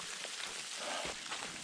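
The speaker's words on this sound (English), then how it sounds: "It's proper rain, but also there's some sleet mixed in." Rain mixed with sleet falling on a hiking trail along the Ozark Trail's Taum Sauk section, a steady, soft hiss of drops on the ground with no talking.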